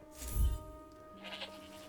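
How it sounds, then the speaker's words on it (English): A sheep in the video game Forspoken lets out a short bleat, followed by a fainter, thinner call a moment later, both fairly quiet. "Fed the sheep."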